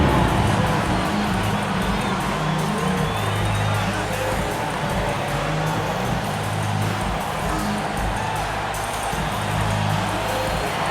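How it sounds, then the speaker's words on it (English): Steady, dense arena crowd noise from an NBA 2K22 Warriors versus Lakers game, a continuous roar of cheering and applause at constant loudness for the whole span, with low tonal music or announcer bleed underneath. "Another round of applause for your Los Angeles Lakers."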